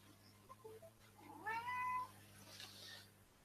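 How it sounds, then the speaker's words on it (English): A cat gives one drawn-out meow, close and clear, in a quiet room with a low steady hum, followed by a softer breathy trailing sound. "Oh, my cat's blocking it."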